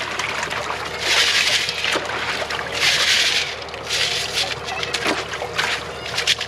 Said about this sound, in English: you dip it in, back and forth into the water. Give it a shake.